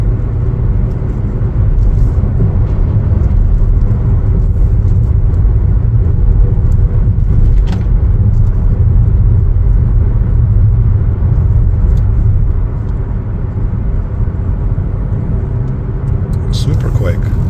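A 2026 Chevrolet Trax RS accelerating on the road, a steady low engine and road rumble heard from inside the cabin, loud and continuous, with a voice talking over it.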